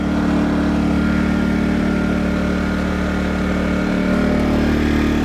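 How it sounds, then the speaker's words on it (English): An Atima inverter generator's small engine keeps running on a steady, loud high idle even with the fuel shut off, a continuous droning hum with no speech over it. "I turned the gas off a full minute ago and it is still running on high idle."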